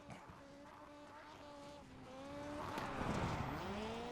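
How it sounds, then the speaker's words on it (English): A dirt race car engine in the iRacing video game at Cedar Lake, held at high revs in fourth gear, buzzing against its limiter with a steady harsh drone, then a swell of tire noise and roar near the end. "Holding it pinned in 4th. Banging it off the limiter."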